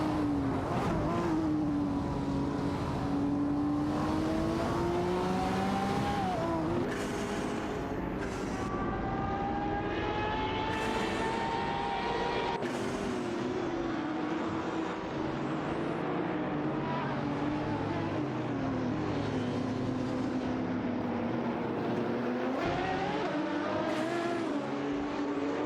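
Radical RXC Turbo 600 race cars from a racing video game, their turbocharged engines whining and rising and falling in pitch as several cars battle closely on track, a loud unbroken roar with no speech.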